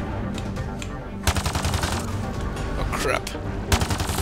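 Rapid automatic gunfire from the sci-fi shooter game Mass Effect: Andromeda, with dense bursts that intensify after a quieter opening, close and loud, as someone speaks briefly over the shooting.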